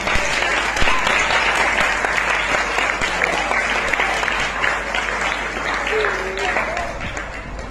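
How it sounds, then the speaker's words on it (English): Church congregation clapping their hands in praise, a loud, continuous burst of applause with a few faint voices mixed in throughout. "Come, clap your hands for Jesus"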